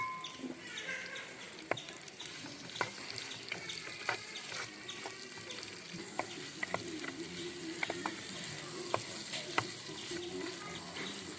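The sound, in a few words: onions frying in hot oil in a pan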